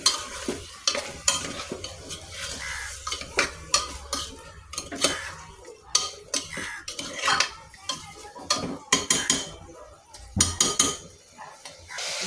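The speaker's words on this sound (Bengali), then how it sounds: "মশলাগুলো দিয়ে ভালোভাবে একটু নাড়াচাড়া করে নিচ্ছি।" Fish is stirred with salt, ginger-garlic paste and cumin paste in a pan, with repeated scraping and clinking of a metal spoon against the pot over a soft sizzle, close and steady, with no voices.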